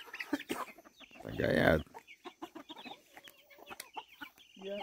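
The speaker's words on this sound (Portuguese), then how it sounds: "E o galo já acorda esperto ali" Hens clucking and a rooster stirring at dawn in the middle of the Amazon forest, with a loud burst of fowl calls in the first seconds and scattered pecking noises and clucks around it, under occasional speech.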